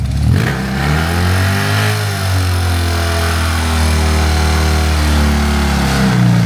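A BMW two-valve boxer prototype motorcycle engine runs loudly and steadily, its pitch dipping and rising as the throttle is worked, with no voices.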